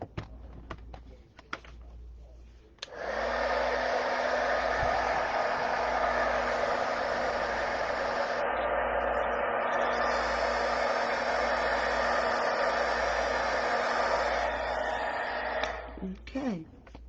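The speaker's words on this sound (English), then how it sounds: "Let me just grab my heat gun. We'll dry this pretty quick" A heat gun runs for about thirteen seconds to dry watercolor stamping, a loud steady blowing hiss and hum that cuts in sharply and stops near the end, after some faint handling at the start.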